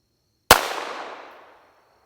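A single unsuppressed .22 pistol shot cracks sharply, loud and close, followed by a short decaying echo.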